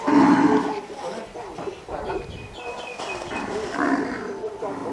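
Cattle low and bellow at a livestock show as the animals are led around a circuit, loud, drawn-out calls rising and falling against crowd noise and some talk.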